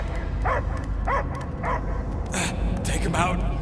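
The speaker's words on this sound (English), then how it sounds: "I hear only barking." A creature in Marvel's Guardians of the Galaxy gives a few short barks, spaced about half a second apart, amid game sounds and characters' voices.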